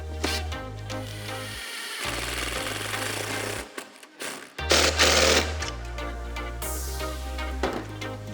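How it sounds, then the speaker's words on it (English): A cordless impact driver hammers a bolt tight while mounting a Minn Kota Fortrex trolling motor on a boat, loud rattling bursts in several runs separated by short pauses, close up with no talking. "It's also easier to get everything tighter with an impact."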